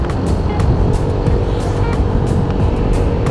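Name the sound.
road traffic, cars passing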